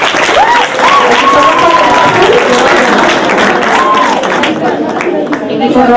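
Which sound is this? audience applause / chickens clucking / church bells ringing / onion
audience applause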